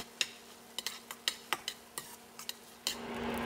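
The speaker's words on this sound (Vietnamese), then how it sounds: "mình sẽ dùng cái muỗng mình mình khuấy mạnh tay thôi là tự động nó sẽ tan ra hết à" A spoon stirs cooked mung beans in a pot, giving about a dozen quiet, irregular scraping clinks against the pan over a steady low hum, alone with no talk.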